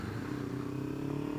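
A Kawasaki Ninja 300 motorcycle with a full exhaust runs close by, giving a steady, droning engine note with a low, even rumble throughout.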